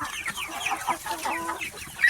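Tiger breed roosters clucking close by, a steady run of overlapping clucks and short calls from several birds with no talk.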